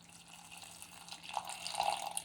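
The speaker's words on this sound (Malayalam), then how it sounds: "നെല്ലിക്ക വലിപ്പത്തിലുള്ള പുളി പിഴിഞ്ഞ് അതിനകത്തേക്ക് ഒഴിക്കണം" Tamarind water, squeezed from a gooseberry-sized lump of tamarind, trickles and splashes into a pot of quick payar curry, a short close liquid pour that grows slightly louder toward the end.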